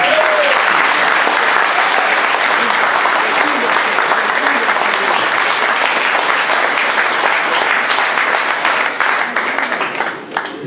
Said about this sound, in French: je vous demande d'applaudir mon ami Séné Saint-Fort, Georges Arpon